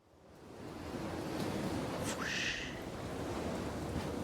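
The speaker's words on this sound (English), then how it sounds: "A powerful gust blows." A powerful gust of wind swells in as a broad, steady rushing roar and stays constant, with a brief airy whoosh sweeping through partway.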